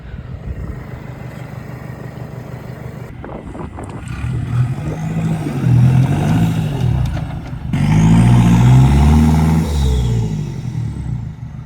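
A 4WD car on Fraser Island revs hard while reversing out of sand holes with recovery tracks behind the wheels, its engine swelling in two loud, strained surges with no voices.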